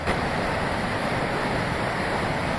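Fast-moving flash flood water rushing in a powerful current, a loud continuous roaring wash with wind buffeting the microphone, steady throughout and without speech.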